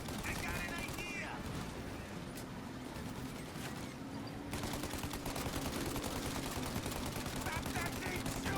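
Sustained gunfire rattles through a shootout in Mafia Definitive Edition, with dense bursts and shots piling up continuously under a steady drone, mixed with shouted voices.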